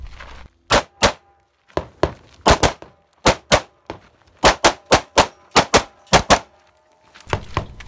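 Rifle gunshots at targets during a 2-gun match, a rapid series of sharp, loud cracks fired in quick pairs and short strings with brief pauses between groups.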